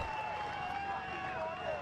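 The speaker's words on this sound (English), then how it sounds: "you can hear the crowd is now in this game" A rugby grand final crowd between Harlequins and Endeavour Hills keeps up a steady, moderately loud roar beneath a commentator talking over it.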